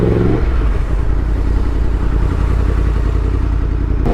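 A 2018 Yamaha MT-10 motorcycle ridden slowly in first gear, its engine a loud, steady close drone with wind rumble and no talk.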